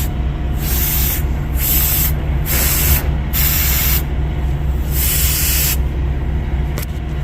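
Compressed air hisses steadily from a wiggled service line on a truck air brake system, a loud continuous leak that pulses louder and softer in several surges over about seven seconds, with no talking.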